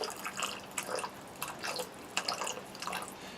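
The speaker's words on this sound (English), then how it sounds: "take some fresh cold water, pour it from a little bit of a height" A thin trickle of fresh cold water is poured from a little height over cowboy-style camp coffee, giving soft uneven splashing and dripping in short bursts, close by with no talk.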